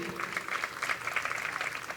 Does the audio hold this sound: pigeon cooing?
no